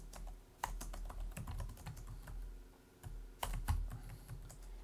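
Keystrokes on a computer keyboard while entering labels into an Excel spreadsheet, irregular clusters of crisp clicks with short pauses, fairly close and steady.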